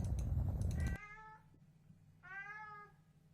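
A cat meows twice, each a clear drawn-out call with a gap between, close and fairly loud; the first follows a burst of loud noise that cuts off abruptly.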